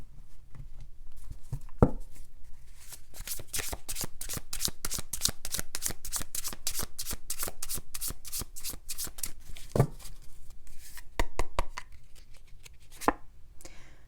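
A deck of tarot cards is shuffled close by in quick, rhythmic bursts of riffling flicks, with a few taps and pauses between rounds.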